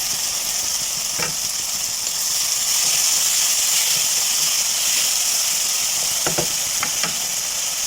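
Tomato and green chili sizzle in a hot pan for vegetable biryani, a loud continuous frying hiss with a few sharp clinks and scrapes of stirring scattered through.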